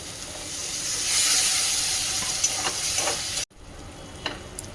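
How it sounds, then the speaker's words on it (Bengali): Spices for a vegetarian taro stem curry fry and get stirred in a pan: a steady, close sizzling hiss with scraping stir strokes, which cuts off sharply near the end and leaves a quieter sizzle with a few taps. "তো এই যে মশলাটা ভালো করে কষে নিয়েছি"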